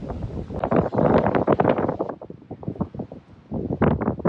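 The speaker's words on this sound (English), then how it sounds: "It's windy, but it's nice." Gusty wind in the Icelandic highlands near Haifoss waterfall and Landmannalaugar buffets the microphone in irregular loud bursts and rumbles, rising and falling, with short calmer gaps between gusts.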